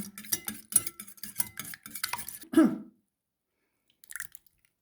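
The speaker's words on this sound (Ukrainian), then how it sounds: "В посудину розбиваємо два яйця великих або три маленьких. І отак підбиваємо вінчиком." A whisk beats eggs rapidly against a bowl in quick wet clicks for a few seconds, then stops, leaving near silence and a faint clatter.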